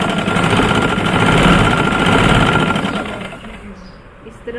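Sewing machine stitching a round Irani chaddar, a loud rapid mechanical whir and needle chatter running steadily before slowing and fading toward the end.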